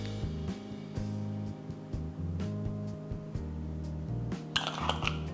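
A spoon scraping and clinking against a bowl as crab meat is stirred into ricotta cheese with black pepper and truffle salt, in repeated close taps and knocks over a low steady hum, with no talk.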